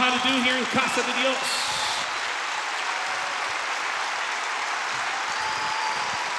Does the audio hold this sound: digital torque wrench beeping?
no